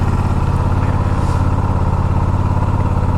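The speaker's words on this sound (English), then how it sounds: "Need to warm the engine before heading to office." A motorcycle engine warming up at idle, a steady, even mid-pitched rumble with a regular pulsing rhythm, close and loud, with no talking.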